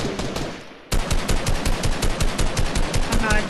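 Video game automatic gunfire in a squad battle, a rapid burst of loud evenly spaced shots starting abruptly after a brief quieter moment and continuing steadily.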